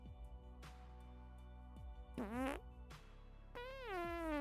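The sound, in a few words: fart sounds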